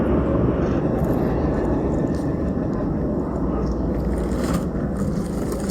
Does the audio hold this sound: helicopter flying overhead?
yes